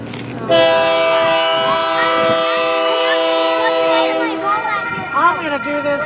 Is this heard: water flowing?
no